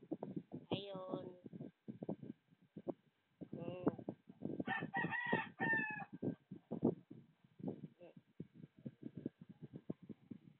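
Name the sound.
chickens crowing and clucking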